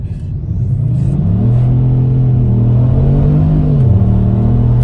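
A tuned Kia Stinger engine held at heavy partial throttle, a loud, close, deep droning rumble that climbs in pitch, holds, dips slightly and rises again, steady with no talk.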